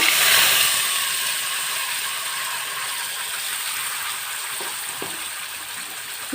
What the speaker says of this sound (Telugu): ఇప్పుడు ఇందులో కాగిన ఆయిల్లో ఈ పేస్ట్ వేస్తున్నా